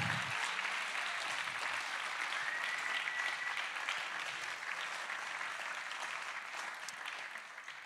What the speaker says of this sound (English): I think you all did a sterling job cheering